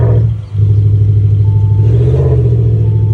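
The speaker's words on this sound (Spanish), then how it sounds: "ahora vamos a arrancar el coche con el sistema exhaust ya activado" Audi Q8 fitted with an active exhaust sound system, its engine already running and settling into a deep, loud, close rumbling idle after a brief dip, with a low throaty burble throughout.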